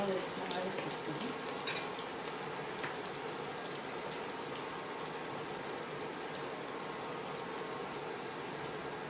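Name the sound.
frying coriander in oil for chicken curry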